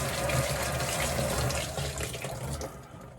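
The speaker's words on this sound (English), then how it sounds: "So now we just rinse off the soap." Tap water runs steadily into a sink as soap is rinsed off during salon sanitation, a close, continuous splashing rush that thins out at the end.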